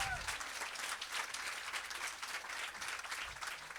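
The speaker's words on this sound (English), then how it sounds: "Give them a round of applause" An audience applauds for a comedy humorist's family members, a steady wash of clapping at moderate volume throughout, fairly distant, with no voices over it.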